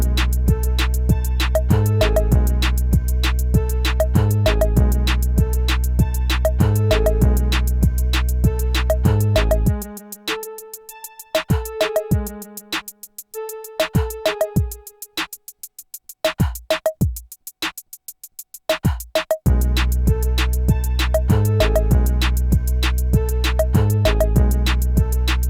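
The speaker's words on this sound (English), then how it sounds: "I again use the fake whirly sound, some bells, a bass, and an Ableton kit, and it sounds like this." An Ableton Move beat loops a whirly synth, chiming bells, bass and a punchy drum kit at full loudness, drops to a sparse breakdown of scattered hits and tones midway, then returns to the full groove.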